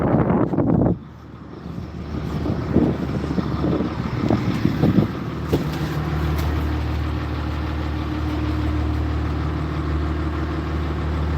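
Wind buffets the microphone in a steady low roar on a salmon gillnetting fishing boat in Alaska, with the boat engine idling underneath and a few brief knocks early on.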